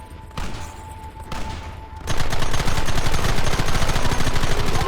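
Rapid gunfire from a Red Dead Redemption shootout, a volley of sharp overlapping shots that builds into sustained dense fire after a brief quieter stretch of scattered bursts.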